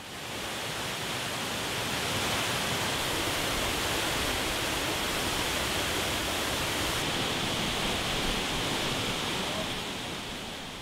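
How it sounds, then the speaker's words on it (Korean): Bongnae Falls on Ulleungdo, a 30 m three-tier waterfall, pours in a loud, steady broadband rush that holds unbroken for about eleven seconds, with no voices over it. "높이 약 30m의 3단 폭포 복내폭포."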